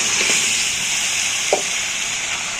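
Beef sizzles as it is sautéed in a pan, a steady, loud bright hiss with a couple of soft stirring knocks and no voices.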